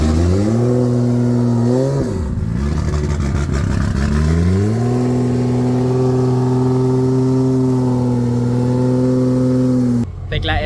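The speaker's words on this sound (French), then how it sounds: "Je pouvais pas vraiment parler en même temps parce que la voiture est straight pipe." A Nissan S15 drift car with a straight-pipe exhaust at a Formula Drift event in Englishtown idles loudly, dips, then revs up twice into a sustained, droning high-rpm note close by.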